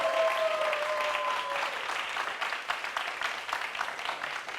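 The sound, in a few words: studio audience applause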